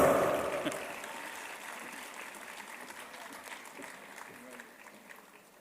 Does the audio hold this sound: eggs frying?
no